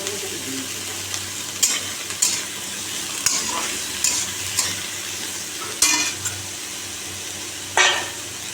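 Onion sizzles steadily in a hot pan with salt added, while a spatula or spoon scrapes and stirs it in several distinct strokes, close up with no talking.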